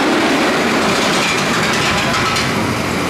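A loud, steady rumble of an amusement park ride train running along its track, with a continuous broadband roar and faint rattling throughout.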